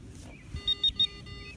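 A Garrett AT Pro metal detector, swept over a .925 silver ring, gives three short, bright electronic beeps in quick succession over a faint, steady tone.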